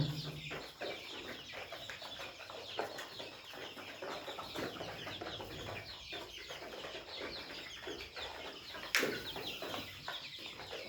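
Young layer hens about 26 days old fill a poultry shed with constant overlapping clucks and chirps, dense and moderately loud, with a brief sharp clatter near the end and no speech.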